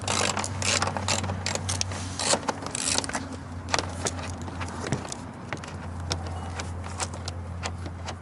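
A ratchet clicks away at 10 mm bolts under the bumper of an Acura TL, giving quick mechanical ticks and small metallic knocks over a steady low hum.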